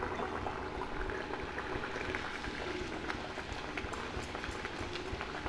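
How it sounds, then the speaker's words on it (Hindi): Puris made with potato and semolina frying in hot oil in a kadai, a steady, close, bubbling sizzle with fine crackles running throughout, no talk over it. "तो इसमें अब हम पूड़ी डाल के फ्राई कर लेते हैं।"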